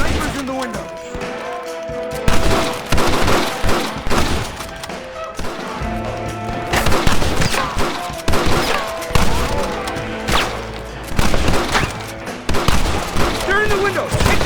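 Snipers firing from a bank window in a Red Dead Redemption shootout: repeated loud gunshots and crashing impacts in irregular bursts, with voices shouting over the battle.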